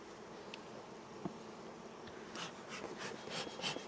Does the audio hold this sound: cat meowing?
no